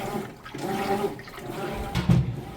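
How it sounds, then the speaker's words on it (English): A GE washing machine drains its wash water, a gurgling, rushing flow close by that surges louder toward the end, with no talking. "Just draining that water out nice and fast"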